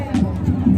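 A large crowd gathered in Murhu awaiting Chief Minister Hemant Soren's helicopter gives off a brief, close, dense babble of voices and general hubbub.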